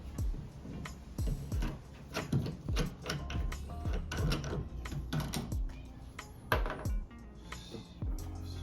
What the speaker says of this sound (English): I'm gonna take this nut back off and so we can mark the base